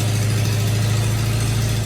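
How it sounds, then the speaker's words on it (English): A Ford Cortina race car engine running rough with a carburettor intake leak, a steady low idle drone held at constant level throughout, with no voices. "we did manage to get the engine to fire up, albeit it didn't run terribly well"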